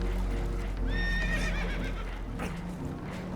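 A spooked horse whinnies in Red Dead Redemption, a rising then wavering neigh in the middle of the clip over a steady low rumble of water and boat noise, with faint hoof clatter.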